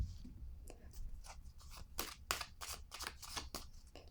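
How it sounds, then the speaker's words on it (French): A tarot card is laid down on a table amid a series of quiet, close paper shuffles, soft slides and light taps, faint and unevenly spaced, with no speech. "Je vais déposer une carte ici."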